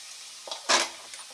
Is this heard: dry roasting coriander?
yes